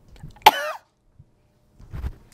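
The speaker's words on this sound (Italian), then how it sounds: "io non vi tossisco in faccia" One sharp, close cough is followed by a brief raspy tail and a quieter throat sound a moment later, with stretches of near silence in between.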